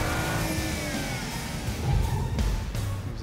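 A BMW accelerates hard around Shenandoah Circuit, its engine note loud and steady from inside the car, with a slight surge near the end and no talking.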